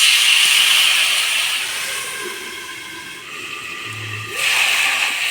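Water poured into a hot pan of potatoes and cauliflower with ginger paste sets off a loud, steady steam hiss that softens for a moment, then swells again, close and continuous.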